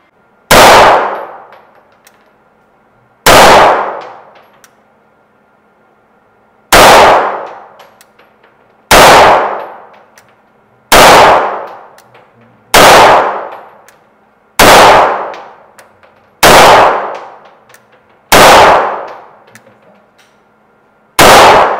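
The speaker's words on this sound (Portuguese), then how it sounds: "aqui eu vou fazer 10 disparos de munição original CBC, a distância ali de 7 metros no alvo amarelo" Ten shots from a Taurus TH380 .380 ACP pistol firing CBC ammunition at a target seven metres away on a shooting range. Each report is loud and close, with short pauses between shots and ringing decay, and no talking.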